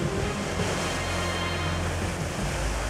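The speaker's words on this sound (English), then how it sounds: "the waves are hitting right up against the rocks" Heavy surf crashing against rocks on the California coast during giant waves, a loud continuous roar of churning water and spray, steady and close with no voices.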